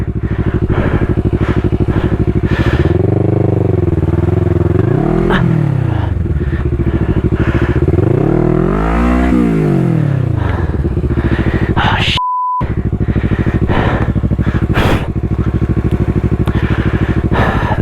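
A motorcycle engine running while ridden on rough ground, close and loud, its pitch swelling and dropping with throttle, a short beep cutting in near the end.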